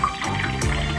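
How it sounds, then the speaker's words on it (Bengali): Water running briefly from a tap while a face is washed, a close, steady pouring and splashing that lasts about a second. "মুখটা ধুয়ে আসছি।"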